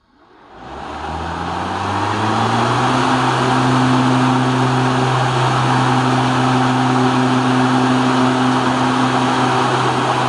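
A Ryobi 48-volt 30-inch electric riding mower, model RY48130, spins up its cutting blades with a rising whir that settles into a loud, steady drone and holds close and alone to the end.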